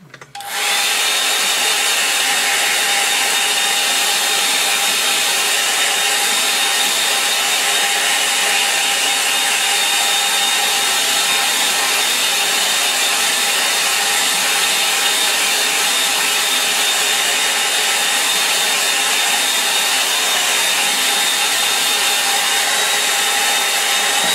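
A hair dryer blows steadily on a line-and-wash watercolour painting of a marsh church. The motor whine starts suddenly and stays loud and constant throughout.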